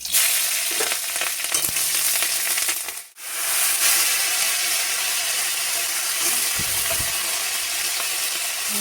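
Dried red chillies, green chillies and radhuni seeds hit hot oil in a pan, a steady loud sizzle filling the whole stretch, briefly cut by a near-silent break midway, with faint stirring clinks underneath.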